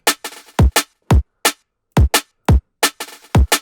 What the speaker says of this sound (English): So this is like the extra snare from the break that I didn't use the first time round.